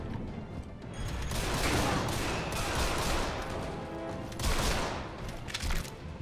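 Shotgun blasts in the video game Deadfall Adventures ring out in a loud, dense volley of booming shots and clattering mechanisms, with heavy reverberant bursts over the background of the game.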